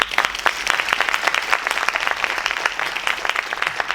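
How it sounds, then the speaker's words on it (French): An audience applauds the speakers of a round-table session, a lively burst of many hands clapping with distinct individual claps audible in the mix, loud and continuous across the moment. "Je vous demande d'applaudir comme il se doit nos intervenantes"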